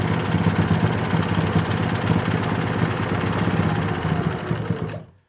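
A sewing machine stitches fabric for reusable face wipes, running as a steady loud whir with a rapid needle rhythm for about five seconds before it stops abruptly.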